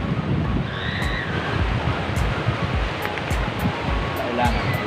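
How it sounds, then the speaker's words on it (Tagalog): Ocean waves washing onto a beach in Pangasinan, a steady broadband surf roar mixed with wind buffeting the microphone, continuous and fairly loud throughout with no distinct voices. "ganda ng alon o"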